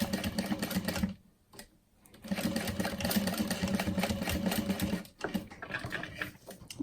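A sewing machine stitches a fabric picture frame in long, fast runs of rattling whirr, broken by two short pauses, close and clear.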